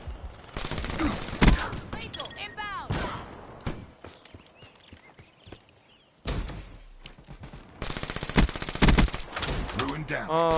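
Gunfire from the VMP submachine gun in Black Ops 3, bursts of rapid automatic shots and single cracks spread across the scene, with a quiet gap in the middle and other in-game effects between bursts.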